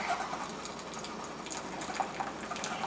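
A home coffee maker pumps and draws down water from its reservoir, a steady low gurgling hum with faint watery sloshing throughout, fairly quiet and continuous.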